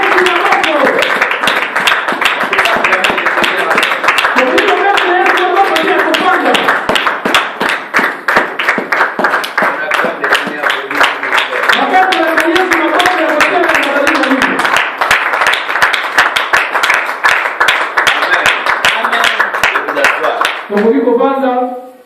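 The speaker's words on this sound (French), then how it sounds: "Alors acclamons les seigneurs" A church congregation claps loudly and rhythmically in steady fast time for about twenty seconds, with voices singing or cheering throughout before the clapping stops abruptly.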